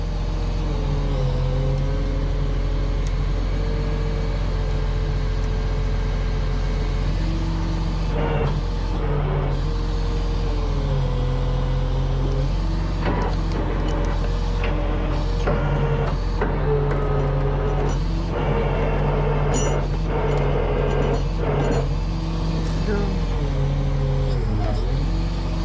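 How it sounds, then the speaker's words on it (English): Heavy truck engine idles steadily with a deep drone while its boom is lowered during a tree recovery of a Subaru, with hydraulic whine, clunks, and people talking over the running motor. "Alright, now start lowering the boom."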